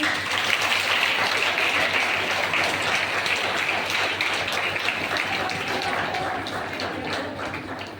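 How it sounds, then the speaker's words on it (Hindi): Loud, steady applause from a crowd at a wedding hall event in Ballia, sustained throughout with a dense, even texture. "और एक बार आप सभी के लिए जोरदार ताली होनी चाहिए।"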